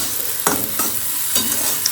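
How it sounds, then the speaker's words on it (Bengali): Okra sizzling in a hot pan while a spatula stirs and scrapes a few times, close and steady, with no voices. "এই যে এখন রান্না করছি ভিন্ডি ভাজা"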